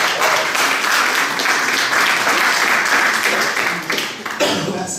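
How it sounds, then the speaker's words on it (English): A studio audience applauds steadily during an interview about recording an album in one day. The clapping is dense and loud, sustained throughout and easing slightly near the end. "People, can we get an applause for that?"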